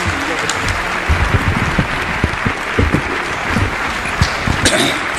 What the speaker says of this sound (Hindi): पुरजोर ताली बजाकर इस्तकबाल कीजिए मुझे।